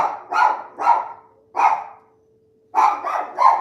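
A dog barks in repeated groups of deep, loud barks outside a home at dinner time, with a short pause between the volleys.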